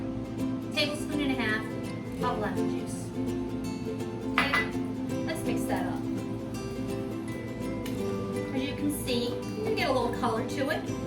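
A utensil stirs olive oil and lemon juice together in a bowl for tzatziki, giving light scraping and occasional clinks against the dish beneath steady background sound.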